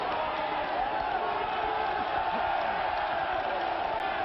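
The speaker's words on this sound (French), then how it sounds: "le public applaudit Eddie Viex, il a raison." A wrestling crowd applauding Eddie Wiecz during a tag-team match, a steady, even wash of clapping and crowd noise that holds at constant loudness with no clear peaks.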